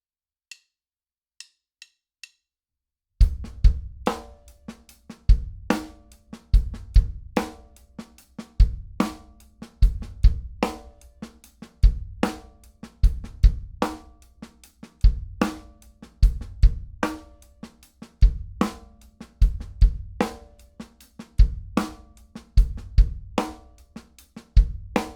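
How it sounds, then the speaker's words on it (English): Full drum-kit groove with a steady kick pattern under a hand pattern that adds soft left-hand ghost notes between the accented strokes, repeating evenly and close after a few quiet sticks clicks at the start. "One kick pattern that always works really well with this hand pattern that we were just playing sounds like this in the context of the full groove"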